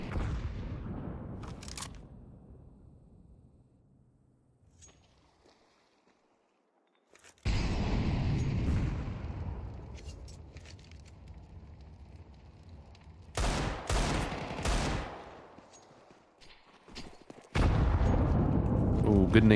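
Grenade blast in a Counter-Strike esports match: a heavy boom with a long rumbling tail, later followed by further sharp bangs, with a commentator talking at times.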